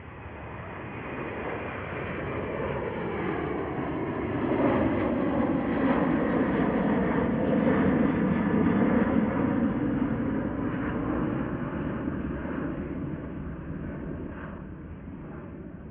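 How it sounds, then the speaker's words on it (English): KLM Airbus A330 jet passing at Schiphol Amsterdam, a broad engine roar that swells from a distance to a loud peak midway and slowly fades, with no voices. "Another KLM Airbus A330."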